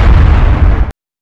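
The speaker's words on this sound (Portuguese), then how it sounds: "Uma explosão acabaria interrompendo." Loud, full-range explosion blast from a Crash and Sonic crossover fan story, a single sustained roar lasting nearly a second before cutting off abruptly into silence, with no talking.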